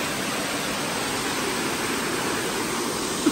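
Water pours steadily at a natural pool, a dense, even rush of hiss with no change in level and no voices.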